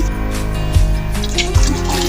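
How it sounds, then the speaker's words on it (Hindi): Water poured from a glass into a pot of matar pulao, a close, loud splashing gurgle with a couple of heavier sloshes, steady and without speech. "तो इसमें मैं थोड़ा सा पानी और ऐड करूँगी"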